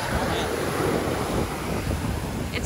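Steady wind gusting into the microphone on a Sanibel beach at night, a broad rumbling roar with no pauses, carrying a hint of surf-like wash underneath.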